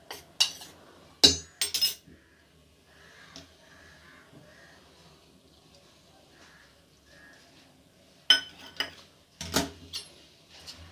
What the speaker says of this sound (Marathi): आपल्याला चमच्याने मिक्स करायचे।